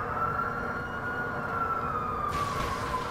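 A police siren wails in the GTA V video game, one long gliding tone that slowly falls in pitch, loud and close, with a rush of noise joining near the end.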